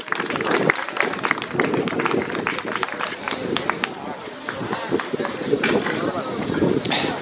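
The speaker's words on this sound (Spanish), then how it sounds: "Vamos, fuertes aplausos." Applause from spectators at a spring Angus calf livestock show, uneven clapping heard outdoors with wind noise and voices talking over it.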